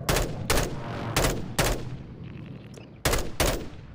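Rifle shots ring out in a first-person shooter game, six loud cracks in uneven succession with a short lull between the fourth and fifth.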